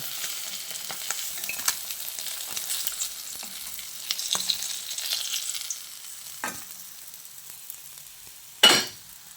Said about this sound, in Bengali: এইভাবে উল্টে অপর সাইডটাকেও একটু কড়া করে ভেজে নেব